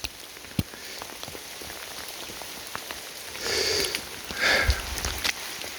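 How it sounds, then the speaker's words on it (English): Soft, steady patter of rain close by on a Great Smoky Mountains backpacking trail, with a couple of sniffs breaking through the even hiss. "You see it's raining."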